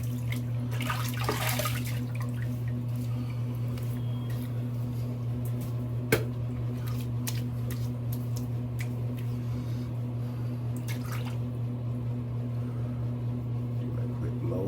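Water runs steadily from a tap while rinsing after a wet shave, a constant hiss under a low hum with a few faint clinks and splashes.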